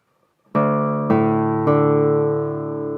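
Three plucked nylon-string classical guitar notes, played with gel nails, ring out one after another, each attack bright and slightly clicky, sustaining together into a warm chord with no talking.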